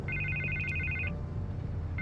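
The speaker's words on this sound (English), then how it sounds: "Can't get the phone to stop ringing." Telephone ringing in a Batman video game, an electronic warbling ring that repeats steadily then stops briefly before starting again, with a low game hum underneath.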